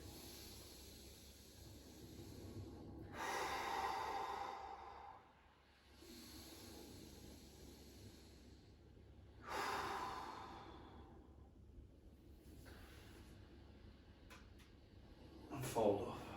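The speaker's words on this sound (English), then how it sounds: "Exhale down. 3 deep breaths." Deep, slow breaths during a gentle yoga movement routine, long soft exhales that rise and fall in a few cycles, close and quiet, with an instructor speaking between them.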